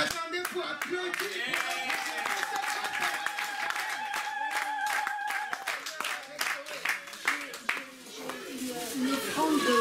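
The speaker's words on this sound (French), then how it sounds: "Est-ce que vous attendez pour applaudir?" Church congregation clapping along in rhythm, many hands striking in a quick regular beat with voices singing and talking over it, fairly close and lively.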